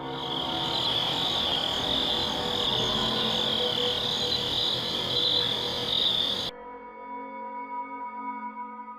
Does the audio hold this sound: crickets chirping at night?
yes